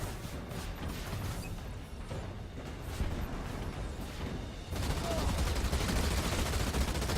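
A temporary turret firing in the video game Halo Wars 2, rapid, steady bursts of gunfire with crashing impacts that grow louder and denser toward the end, over the game's ambient sound.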